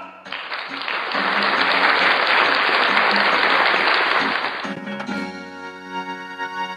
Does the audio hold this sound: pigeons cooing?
no